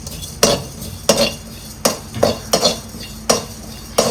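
A spoon scrapes and stirs garlic, coriander seeds and cumin as they dry-roast in a pan for moringa chutney powder. About nine brisk, rhythmic metallic strokes sound close and clear over a faint sizzle.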